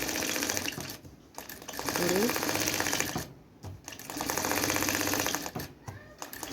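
A sewing machine in a tailoring class runs in several rapid rattling bursts while stitching a round seam, close and loud with brief pauses between runs, and a person talks faintly underneath.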